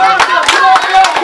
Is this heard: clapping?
yes